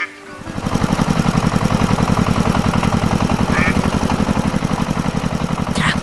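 A red tractor engine in a cartoon animation runs with a steady, rapid chugging rumble. It holds loud and even for the whole stretch after a quick start, with no talk over it.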